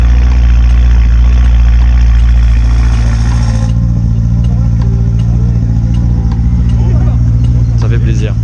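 BMW E92 V8 with an aftermarket exhaust at a car meet, a loud continuous deep engine rumble idling and revving up close, with people talking over it.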